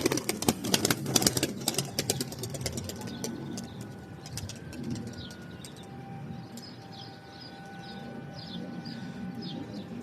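A racing pigeon, a smoky-dun hen, launches into flight with a burst of clattering wing flaps, then other birds chirp and coo at a distance over a low engine hum.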